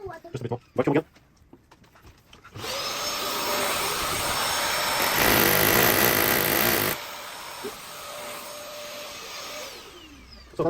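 A few sharp knocks come first, then a vacuum unit starts up loud and droning during a budget split air conditioner installation, running about four seconds. It then drops to a softer steady hum that trails off.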